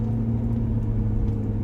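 Car interior road noise while driving over a bumpy road, a continuous low rumble and engine hum at moderate level with faint small knocks, no talking.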